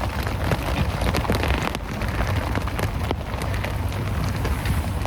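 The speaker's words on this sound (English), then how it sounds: "you could probably hear that rain now" Rain drumming on a tarp shelter pitched in fierce wind, a dense, loud, continuous patter right overhead with scattered sharper drops hitting the fabric, steady throughout and free of talk.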